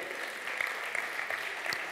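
A church congregation applauds during a Spanish-language sermon, a steady wash of hand clapping at moderate distance, fairly even with a few sharper claps standing out.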